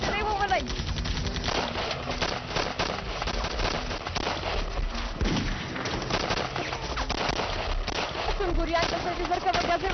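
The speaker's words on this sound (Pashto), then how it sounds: "د خوشحالۍ ډزې کوي" Bursts of celebratory gunfire ring out in a Pashto drama scene, rapid repeated shots and thuds crowding a dense, loud mix with voices talking and shouting throughout.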